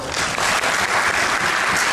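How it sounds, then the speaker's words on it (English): An audience at a blog awards unconference session gives a dense, loud burst of applause that fills the whole moment without any talking. "Big round of applause."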